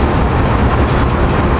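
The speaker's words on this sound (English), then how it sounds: "We got Amtrak engine 917, which I can see" Amtrak train led by engine 917 arriving, a loud, steady broadband rumble and rush of rolling equipment close by, with no distinct horn or breaks in the sound.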